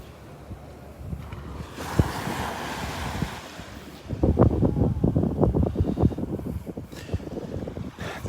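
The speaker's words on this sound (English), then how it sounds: "The tide comes up, the waves push them around" Waves surge and wash up on the shell-strewn sand at Delnor-Wiggins beach on a windy morning, starting as a soft hiss and then breaking into louder, choppy wash over the last few seconds, with wind buffeting the microphone.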